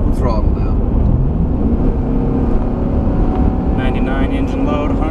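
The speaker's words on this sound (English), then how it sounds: "I'm gonna have wide open throttle now." Car engine accelerating at wide open throttle, a loud, steady, dense roar that fills the whole stretch with wind noise, heard from inside the cabin.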